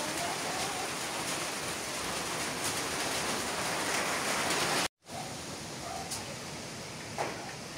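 Heavy typhoon rain pours steadily at a chicken farm as a dense, loud roar of downpour, with a brief break and a few louder gusty swells toward the end.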